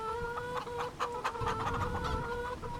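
Chickens on a farm in Farming Simulator 25 cluck in a busy, overlapping series of short calls, close and fairly loud, with a low background rumble.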